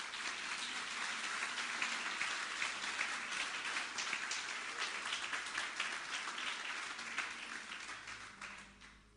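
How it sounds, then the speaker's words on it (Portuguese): Church congregation applauds during a sermon, a continuous patter of many hands clapping at moderate level that gradually fades toward the end. "Vamos aplaudir Jesus pelo texto."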